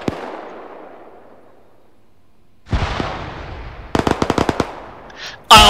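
Tank machine gun fire in the ArmA 3 video game: a sharp shot with a long echoing decay, then a booming blast, a rapid burst of about eight loud rounds, and a final loud crack, all close.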